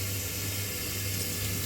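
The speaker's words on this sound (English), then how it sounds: "the hot water is coming" Hot water runs from a household tap after a Bosch boiler was sorted out, a steady continuous rush with a low hum underneath and no voices.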